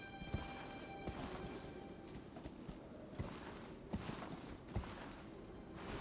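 Faint, steady clip-clop of horse hooves at a walking pace in the video game Elden Ring, set against a constant background ambience.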